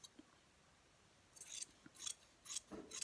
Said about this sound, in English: you take your scissors and you cut this first fold right to the top